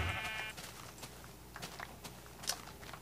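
Sheep in a Minecraft-style video game bleat in a short wavering cry at the start, followed by quiet scattered clicks and soft taps.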